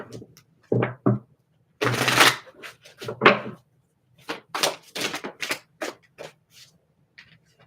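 Tattoo Tarot cards are shuffled close by in quick rustling, riffling bursts, with short pauses between handfuls and no talking.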